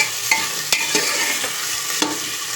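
Onions softening in hot oil in a pan, a steady soft sizzle with a few scraping stirs of a spoon, close up and continuous, no talking.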